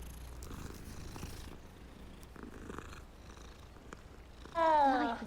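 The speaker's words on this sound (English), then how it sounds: "Sorry, saw the cat. Wanted to pet it." A cat purrs softly in the Hogwarts Legacy video game while being petted, a low steady rumble under quiet ambient game sound, followed by a brief louder chirping call near the end.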